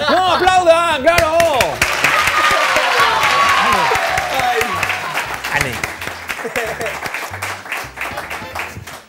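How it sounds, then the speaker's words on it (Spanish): A television studio audience breaks into applause during a Spanish variety show, a dense wash of clapping that swells after a presenter's voice and carries on under continued talk and chatter. "¡No, aplaudan, claro!"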